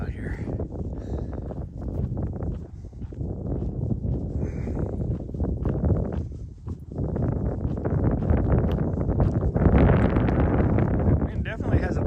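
Gusty wind buffets the microphone during a muddy trail run in the Scratchgravels, a low roaring rumble that rises and falls and grows stronger toward the end, with someone talking over it.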